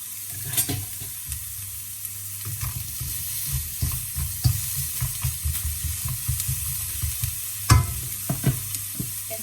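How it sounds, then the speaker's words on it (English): Onion sizzles in an oiled pan on a stove set to level 6, with a steady frying hiss under repeated scraping stirs and a couple of louder knocks against the pan. "I'm just gonna go ahead and add the onion"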